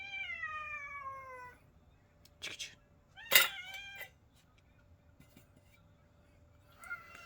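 A cat gives a long, clear, drawn-out meow, then a few shorter cries follow, with a loud yowl in the middle and one last brief call at the end. Quiet background noise and some talking surround the calls.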